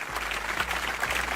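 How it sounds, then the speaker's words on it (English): Dense, steady hand clapping fills the whole short stretch, a continuous applause-like patter at even loudness with no voices over it. "Hand clap."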